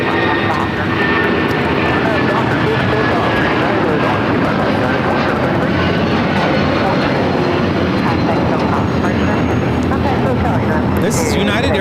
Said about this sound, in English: This is United Airlines 1488 taking off to Newark on a 757-200.